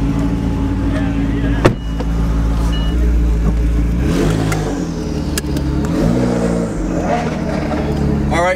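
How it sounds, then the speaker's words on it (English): A customer's triple-turbo McLaren supercar on Sunset Boulevard, the engine droning and revving in several rising surges heard from inside the car, with brief talk mixed in. "you're driving a customer's triple turbo McLaren"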